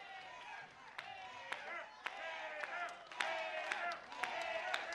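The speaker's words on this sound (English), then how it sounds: "listen to the crowd getting behind Leon Hader" Wrestling crowd at a Future Stars of Wrestling show roars steadily behind a commentator's voice, with sharp claps and slams punctuating the loud, sustained cheering.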